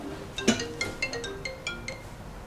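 A phone ringtone plays a short, bright electronic melody of quick repeated tones, close and clear, with no other sound over it.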